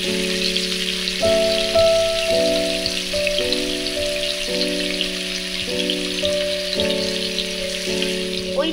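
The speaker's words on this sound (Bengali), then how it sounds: "ওইদিকে আমার চিংড়ি মাছটা ভাজা হচ্ছে" Prawns fry in a pan for doi chingri, a yogurt prawn curry, giving a steady close sizzle throughout with a faint tonal hum beneath and no talking.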